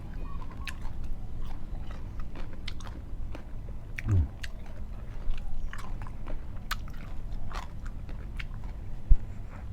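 Sago palm weevil larvae are eaten with a seafood dipping sauce, making close, wet chewing and soft bursting bites throughout, with occasional louder crunches.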